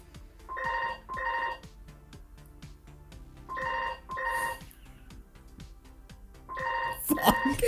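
A telephone rings in repeated paired electronic bursts, loud and close, three ring cycles in a steady pattern, with a sharper noisy clatter near the end.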